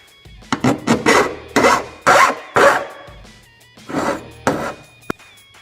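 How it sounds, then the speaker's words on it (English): A hand file rasps across a dagger blade to clean off burrs, in about nine close, loud rubbing strokes with short gaps between them and a brief sharp click near the end. "take your file and clean off all the burrs"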